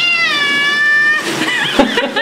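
A cat meows loudly and close up during a bath in a bathtub, one drawn-out wavering cry followed by splashy bathroom noise.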